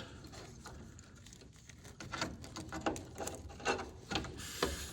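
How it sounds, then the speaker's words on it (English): A tubing cutter is turned around a rusty brake line, giving a rhythmic series of gritty ratcheting scrapes that grow more distinct over the pass, quiet and close, with no talking. "rotate our line cutter all the way around it"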